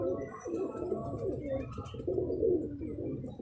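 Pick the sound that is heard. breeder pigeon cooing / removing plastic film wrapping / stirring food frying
breeder pigeon cooing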